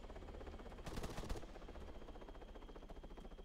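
Gunfire in the game Arma 3, a burst of rapid shots around the middle standing out over a steady background din, with scattered fainter reports before and after.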